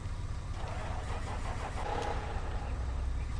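A work truck's engine cranking over and catching in Farming Simulator 19, a steady mid-range motor rumble that stays loud and close with no voices over it.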